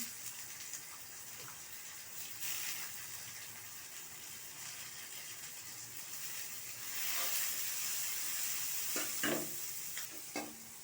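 Chopped ginger frying in oil with garlic and onion, a soft continuous sizzle, occasional spoon scrapes and stirring, growing a bit louder midway, quiet and close.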